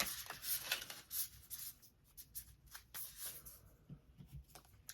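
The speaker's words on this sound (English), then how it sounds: "now I'm shuffling the Intuitive Whispers Oracle" Intuitive Whispers Oracle cards being shuffled by hand, quick soft riffles and crisp flutters in short bursts, close and quiet with small pauses between.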